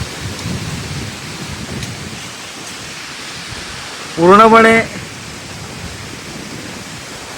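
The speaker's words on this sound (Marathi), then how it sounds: "सोसाट्याचा वारा वाहतोय आणि झाडं बघा केवढ्या जोराने हलतायत." Strong, gusty wind from a sudden storm in Malgund in the Konkan region roars steadily with broad, unbroken noise. A voice cuts in briefly partway through.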